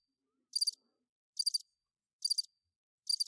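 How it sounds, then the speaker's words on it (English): Four evenly spaced bursts of high cricket chirps sound alone against silence, each a quick trill. "There's also crickets when I make a bad joke."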